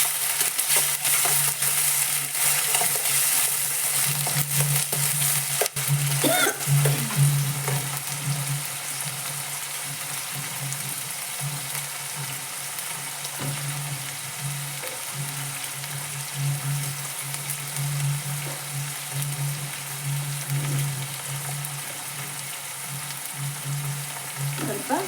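Onions and urad dal fry in hot oil in a pan, a steady sizzle running throughout at a constant level, with occasional scrapes and clinks as the mixture is stirred.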